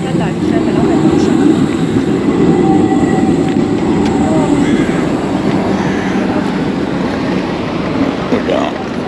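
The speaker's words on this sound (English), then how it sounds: "As you can see, the trains run fairly frequent." A Prague metro train rumbles through the station, a loud, sustained roar of rolling wheels and carriages close by, with voices faintly audible under it.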